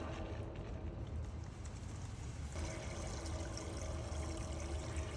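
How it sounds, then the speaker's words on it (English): Water pouring into a plastic mosquito trap pot holding pesticide, fungus and an odor tablet, a steady close trickle and splash running continuously with no speech. "We got to fill them up with water first."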